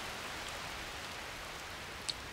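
Steady light rain falling outdoors in the Scottish wild, a soft, even hiss throughout with one faint drip near the end.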